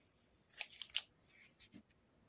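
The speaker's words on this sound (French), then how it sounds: "On va couper le surplus," Scissors snip away excess paper while a rainbow-themed craft album is assembled, three or four quick crisp cuts close by, then a couple of softer trailing snips before the room goes quiet.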